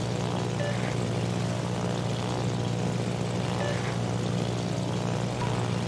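A fighter aircraft taking off in the video game World of Warships, a steady droning propeller roar that holds at a constant loud level with no breaks.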